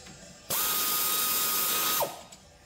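Power tool, likely an impact or ratchet, spinning out a small brake caliper bolt on a Buick Verano, a steady loud high whir lasting about a second and a half before winding down, no talking.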